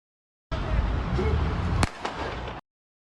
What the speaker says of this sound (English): You heard that? The gunshot?